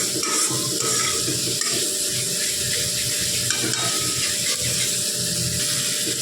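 Water is poured into a pan of frying spice paste for a spicy pomfret curry, a steady close rushing splash with a faint sizzle underneath and no talking.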